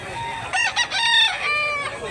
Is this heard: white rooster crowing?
yes